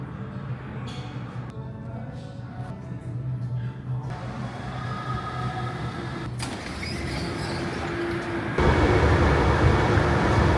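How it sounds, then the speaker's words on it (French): A metro train arrives at an underground station, a broad rumbling roar of wheels and carriages building in loudness toward the end, with muffled station noise and scattered voices underneath. "Oh putain, le métro, je l'ai entendu."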